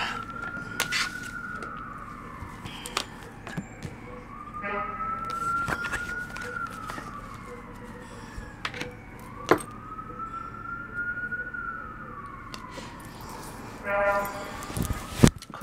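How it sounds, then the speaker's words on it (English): Police sirens drift in through an open window, a rising and falling wail repeating several times at moderate distance, with traffic noise and a person talking indoors over it. "Because those are actual sirens. Like I said, my window's open."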